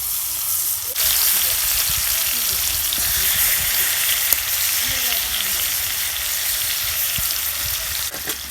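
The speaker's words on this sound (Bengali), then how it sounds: "আমি মাছ ভাজতেছি" Pangas fish pieces frying in hot oil, a loud, dense sizzle and crackle filling the whole stretch with a few sharp pops, close to the pan, no talking over it.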